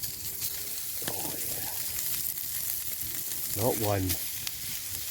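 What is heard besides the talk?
burgers sizzling in hot oil over campfire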